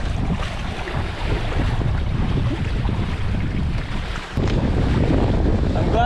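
Strong wind buffets and roars across the microphone aboard a MiniCat 520 Explorer sailboat in the Stockholm archipelago, with rushing water beneath and a brief lull before the gusts return.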